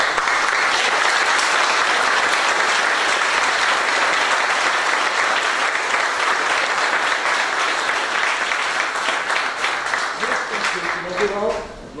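A concert audience applauds the musicians of a municipal orchestra at a gala performance, the clapping a loud, dense and sustained roar that only begins to thin near the end as a few voices come in.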